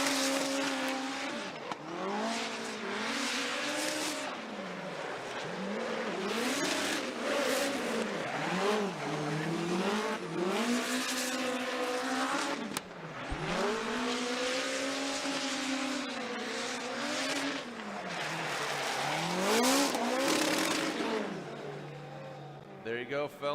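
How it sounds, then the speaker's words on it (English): A 4-cylinder turbocharged, nitrous-powered hot hatchback drifts at a Formula Drift competition in Atlanta. The engine revs hard in repeated rising and falling surges with bouncing-off-the-limiter bursts and tire noise, loud and fairly close throughout. "let's just listen to this 4-cylinder turbo nitrous powered hot hatchback of Ryan Tuerck."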